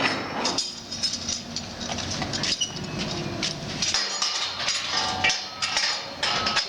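A hammer strikes the wedge of a clamp during a clamp test, hit hard as it would be in the field, producing a series of sharp metallic clanks and clinks over a clattering, busy background.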